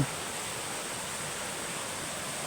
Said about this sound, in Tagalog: narinig niyo naman ang agos ng tubig